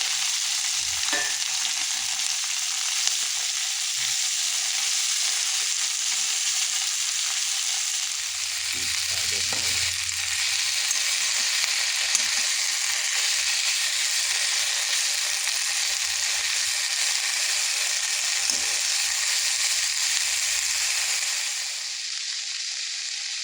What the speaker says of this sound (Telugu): ఆయిల్ హీట్ అయిన తర్వాత వేసుకొని మెత్తగా అయ్యేంత వరకు ఫ్రై చేసుకోవాలి